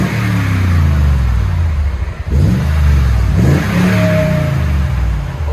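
A 2016 Toyota Tundra 5.7L V8 with a TRD cat-back exhaust revs steadily with a deep exhaust rumble, dipping briefly before surging again, then settling back into a strong, throaty drone.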